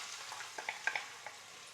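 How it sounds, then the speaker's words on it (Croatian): Onion frying in heated oil for sarma, a faint quiet sizzle with a few small pops and crackles, and no voices. "I luk ću ispržiti dok ne omekše."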